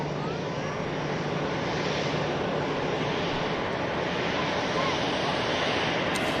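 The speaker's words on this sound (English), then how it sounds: "Shuttle service on its way down 23 left for departure to Heathrow" A shuttle airliner heading for departure to Heathrow taxis at Manchester Airport, its engines a steady, even roar with a broad windy hiss that holds unchanged throughout at moderate distance.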